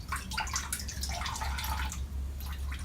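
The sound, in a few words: coolant draining from Peugeot 205 GTI radiator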